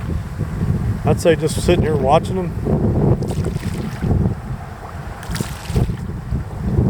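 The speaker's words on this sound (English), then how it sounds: "we got a little bit of wind today. You can probably hear it." Wind buffets the microphone outdoors at a sheltered waterside spot, a steady rushing roar throughout with someone talking over it.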